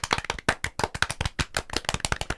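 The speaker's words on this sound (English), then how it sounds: "I just want to have a little round of applause for Toby" A small group gives a brief round of applause, dense, close hand claps lasting a couple of seconds.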